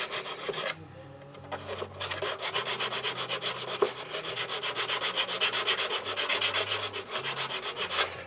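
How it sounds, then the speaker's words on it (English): Sandpaper fixed to one side of a machinist ruler rubs back and forth over a sawn wood edge, a close, steady rhythmic rasping with a brief pause near the start. "a machinist ruler with sandpaper on one side"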